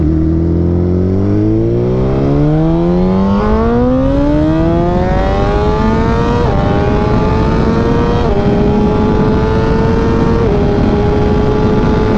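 A 2018 Suzuki GSX-R1000R sportbike pulls hard through the gears on a Las Vegas ride, its engine whine climbing steeply with a few quick upshifts, loud and close throughout with heavy wind rumble.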